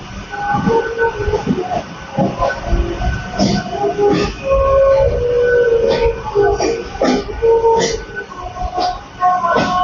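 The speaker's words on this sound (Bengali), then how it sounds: "এই যে বন্ধুরা, বন্দে ভারত।" A Vande Bharat train passing near Howrah rolls by loudly and close, with rhythmic wheel clatter and rumble broken by brief tonal squeals and horn-like notes.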